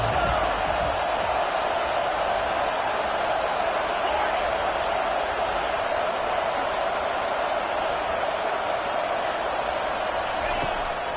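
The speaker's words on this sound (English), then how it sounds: "Here comes this home crowd as the defense tries to get off the field on 3rd down." A home crowd roars in a Florida State versus Florida football video game, a dense, constant wash of stadium noise that fills the whole stretch without letup.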